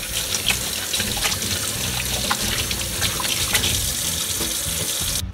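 Hands being washed under a running kitchen tap while cooking, a steady close splash and trickle of water with small irregular surges, alone with no voices.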